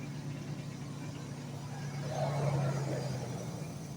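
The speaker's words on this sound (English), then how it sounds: "Car's running, man. Car's on, man." A Dodge Durango engine running at idle, a steady low hum with a faint drone that swells slightly midway, heard close and alone without talk.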